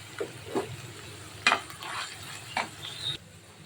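Chicken pieces sizzle in a pan with onion and garlic, with soft frying hiss under a few sharp stirring scrapes and clinks of a utensil against the pan.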